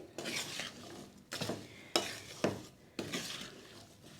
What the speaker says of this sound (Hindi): अच्छी तरह से इसको हम मिक्स कर देंगे ताकि जो मसाले हैं वो गाजर और मिर्ची में अच्छी तरह से लग जाए